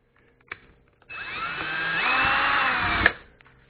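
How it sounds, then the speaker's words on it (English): A power drill fitted with a 1/4 inch bit bores a hole for a bolt in a luggage rack for a Kawasaki motorcycle, a click then a two-second whining grind that rises in pitch before stopping sharply. "this is a 1/4 inch drill bit"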